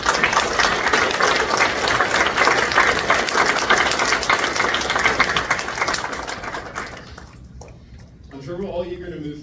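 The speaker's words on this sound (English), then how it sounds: "You deserve a round of applause." Audience applause at an EMT graduation ceremony, a broad wash of clapping lasting several seconds, then fading out, followed by a speaking voice near the end.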